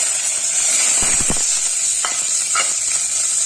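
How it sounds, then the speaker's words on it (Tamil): Small onions being sautéed with pepper and curry leaves in a pan for a bone and liver soup: a loud, continuous hissing sizzle with a few soft stirring scrapes, close up, and no talking. "இதை நல்லா வதக்கி கொடுத்துக்கலாம் நல்லா வதக்கலாம்"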